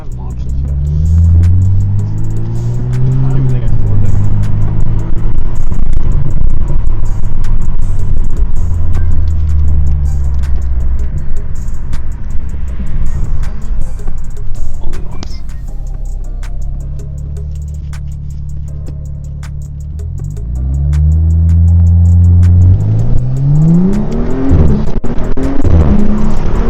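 A Dinan S3 tuned BMW M235 launches hard, its engine revving up through rising gears in loud near sweeps, easing off midway, then building again at the end, with people talking in the car throughout.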